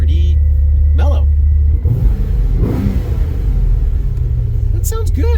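A Lotus LS V8 Renegade starting up, its engine settling into a deep, steady low rumble with a brief swell partway through, heard under someone talking.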